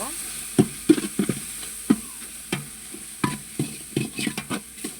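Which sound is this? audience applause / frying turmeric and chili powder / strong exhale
frying turmeric and chili powder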